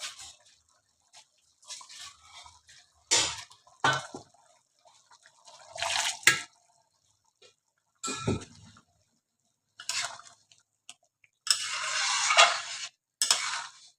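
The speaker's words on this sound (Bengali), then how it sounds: "আর একটু জল দেবো।" Water poured into a cooking pot in a home kitchen, heard as several short splashing and stirring bursts separated by quiet gaps, fairly close, with a longer pour near the end.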